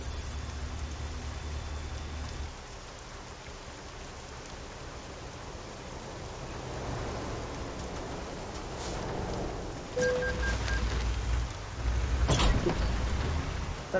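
Steady rain hisses across a video game scene with a canoe on open water, a broad wash of noise that swells slightly near the end, with a few brief sharper bursts and no voices.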